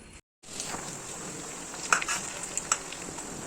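Mango and rice frying in a pan for fried rice in a home kitchen, a steady close hissing sizzle with a brief drop-out and a few sharp spatter pops, no voices.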